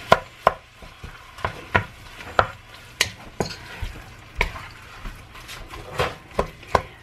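Ground beef and sliced onions are stirred in a pot with a spoon, giving a steady run of sharp scraping knocks about twice a second over a continuous sizzle, close and fairly loud.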